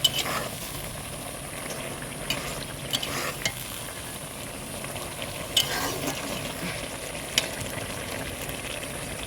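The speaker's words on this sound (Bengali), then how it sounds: "এদিকে দেখো শাক রান্না করছি, পুঁটি মাছ দিয়ে শাক দিয়ে" Greens and small puti fish cook together in a pan. A steady, soft sizzle of frying runs throughout, with faint clicks and taps now and then.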